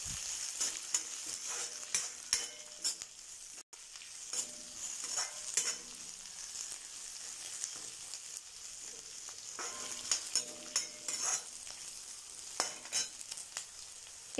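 Chopped ginger and garlic cloves being sautéed in a pan for mint chutney, a quiet steady sizzle broken by repeated spoon scrapes and stirring clinks, with no voices.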